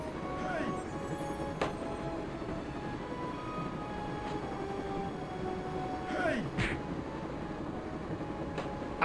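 A passenger train rolls steadily along inside the Broken Sword (Baphomets Fluch) adventure game, its continuous low rumble and rattle running throughout with a few faint metallic clanks, while someone talks over it.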